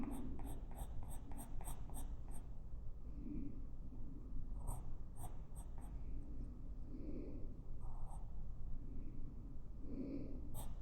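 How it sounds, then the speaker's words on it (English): A Derwent Drawing pencil in Mars Orange colours on black paper, giving close, soft scratchy strokes in short repeated bursts with brief pauses. "I'm going to use the Derwent Drawing Mars Orange to add in the color here."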